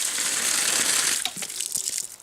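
An outdoor water spigot at an RV site is turned on and water gushes out with a bright, hissing rush, then sputters and splashes unevenly as the flow settles, close and fairly loud.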